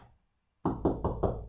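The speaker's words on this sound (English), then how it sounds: "You keep knocking on the wall until you hear a solid sound." Four quick, close knocks on a wall directly over a solid stud, dull and firm, coming after a brief hush during a DIY cabinet installation.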